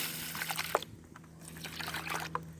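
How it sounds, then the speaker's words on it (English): Water pouring into a pot of rice being cooked on a home-made portable wood grill outdoors, a soft broadband trickle and splash that rises and falls over a couple of seconds, fairly faint. "So we're going to go ahead and add some water."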